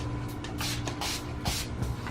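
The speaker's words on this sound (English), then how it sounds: "To set my face, I'm going to be using the Urban Decay All Nighter Setting Spray." Several quick hissing spritzes from a makeup setting spray bottle, close and distinct, in an uneven rhythm with short pauses between them.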